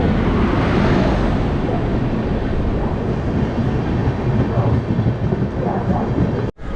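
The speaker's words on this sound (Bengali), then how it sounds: "ফাইনালি আমাদের পদাতিক এক্সপ্রেস এসে গেছে" Padatik Express arriving at a station, a loud continuous heavy rumble of the train rolling in close by, with platform noise blended underneath and a sudden cut near the end.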